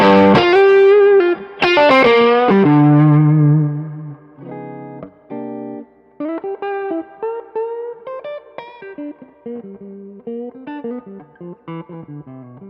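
An electric guitar plays through an overdrive pedal that pushes the front end of the amp. Loud sustained chords ring out first, then choppy, touch-sensitive single-note phrases follow, with no talk.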